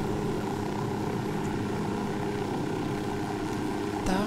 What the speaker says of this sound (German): ich flieg dann mit dem Hubschrauber weiter